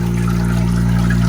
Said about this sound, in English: Now we're filling some water.